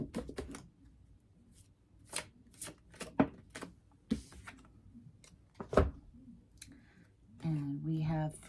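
Magical Unicorns Oracle cards are shuffled in a series of sharp, quiet riffles and taps, close by, with a voice speaking briefly at the start and again at the end.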